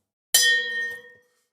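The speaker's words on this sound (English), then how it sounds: "Ring the fucking bell" A single bell rings once with a bright clang, its metallic tone ringing on for about a second before fading, heard close and alone.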